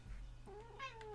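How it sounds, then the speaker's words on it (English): A single house cat meows once, a short rising-then-falling call, fairly close over a low steady background hum. "And that's my cat."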